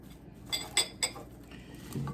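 A spoon knocks and scrapes against a pot while tomato soup mixture is stirred, giving three quick metallic clinks, then a soft scrape against a low background hum.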